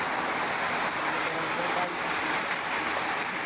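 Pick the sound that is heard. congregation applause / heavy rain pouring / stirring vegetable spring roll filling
heavy rain pouring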